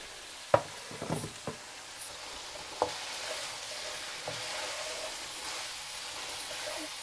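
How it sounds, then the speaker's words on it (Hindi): Mixed vegetables tossed into a pan with chicken for a noodle stir fry: a few scraping clatters of a spatula over a quiet, steady sizzle that continues faintly after. "अब हम इसमें जो सारी सब्जियां हमने ली हैं वो शामिल कर देंगे।"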